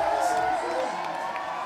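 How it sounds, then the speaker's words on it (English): A big spectator crowd cheers and whoops at the FISE World Montpellier 2015 BMX park final, a loud sustained roar of voices that stays full throughout and tapers only slightly. "The crowd rewarding him with a huge round of applause"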